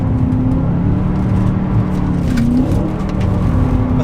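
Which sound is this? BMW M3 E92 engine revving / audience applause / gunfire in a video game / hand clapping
BMW M3 E92 engine revving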